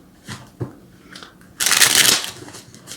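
Tarot cards are handled with a few soft flicks and taps, then a dense riffling shuffle of about half a second, close and fairly quiet in a calm indoor setting.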